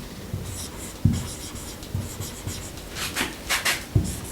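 Chalk or marker writing a sentence on a classroom board: faint, light scratchy strokes in short irregular bursts, a few sharper taps, in a quiet room.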